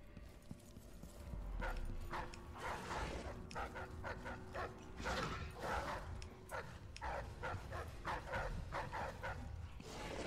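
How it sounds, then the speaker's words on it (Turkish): Several dogs bark in Dishonored 2, a steady run of repeated barks and yelps from nearby over a low ambient game backdrop, with no talk. "Bir sürü köpek var ya."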